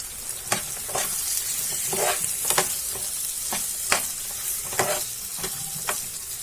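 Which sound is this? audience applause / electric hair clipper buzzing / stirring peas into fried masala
stirring peas into fried masala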